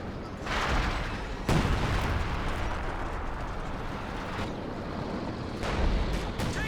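Artillery in the video game Company of Heroes 2 during a 2019 World Championship match, a few heavy booming impacts over a constant rumbling battlefield roar, distant shelling rolling on continuously.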